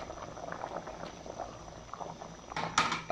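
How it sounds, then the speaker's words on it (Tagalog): Chicken and sweet potato bubble at a steady rolling boil in a pot, a continuous close simmering churn, with a brief clatter near the end like a lid or utensil knocking. "kumukulo na yung ating manok"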